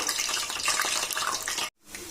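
Paneer jalebi batter frying in hot oil, a steady broadband hiss and crackle that runs close and loud for most of the time, cuts out sharply for a brief moment, then resumes.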